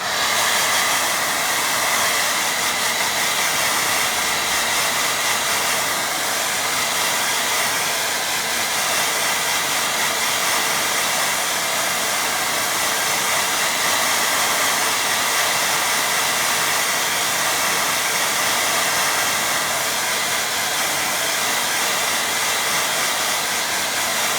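A hair dryer blows steadily on a wet watercolour painting of waves and rocks, a loud continuous rushing hiss that runs unbroken for the whole stretch with no talk over it.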